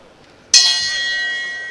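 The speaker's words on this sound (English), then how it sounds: "And there's the bell." A single ring-start bell at a W5 Grand Prix Vienna kickboxing match strikes once, sharp and bright, then rings on with a long sustained tone above steady crowd noise.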